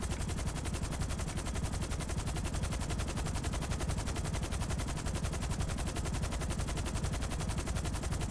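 In GTA Online, enemies fire a steady rapid stream of automatic gunfire during an air cargo freight sell mission, loud and continuous for eight seconds with no talk.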